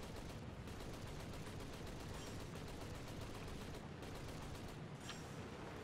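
Rapid cannon fire from aircraft in a combat video game, a dense continuous rattling burst of shots, fairly faint and steady throughout.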